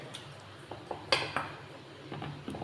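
Butter being mixed in a bowl with chopped coriander, with scattered utensil clinks and scraping in short, irregular bursts, close and fairly quiet.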